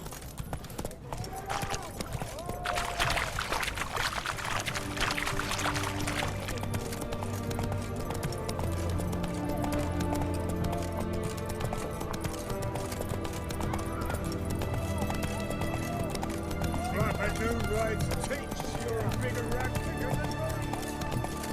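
Roach the horse galloping in The Witcher 3, hoofbeats clip-clopping steadily with an occasional whinny, under game music and voices talking throughout.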